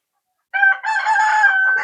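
Rooster crowing with harmonic calls alongside clucking chickens in a native country-hen poultry section on a farm, loud and close, starting after a brief silence and running steadily to the end.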